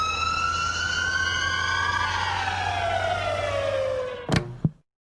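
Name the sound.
ambulance siren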